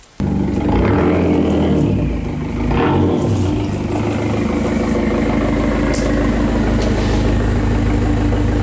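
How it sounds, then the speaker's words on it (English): A car engine idles steadily and close by in a workshop, a low continuous rumble with a slight dip in level around three seconds, running on alone without voices. "let's go ahead and back this thing into the shop"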